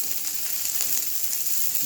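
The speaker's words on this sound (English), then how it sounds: "The sizzle is amazing, guys." Steady, dense sizzling of vegetables sautéing Indian style in a hot pan, a continuous crackling hiss with no talking.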